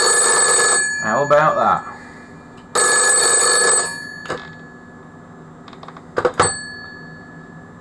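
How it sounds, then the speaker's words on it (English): A restored vintage telephone's bell rings in two loud, close bursts of rapid metallic clanging, with a brief voice between and some clicks and clunks afterward. "I can dial number 23 and the phone we've just restored should ring."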